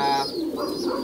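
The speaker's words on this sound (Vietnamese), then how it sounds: "đây là chim bồ câu" Pigeons cooing close by at a farm where squabs are raised for breeding, a steady throaty coo that rolls on without a break through the whole short stretch, with no voices.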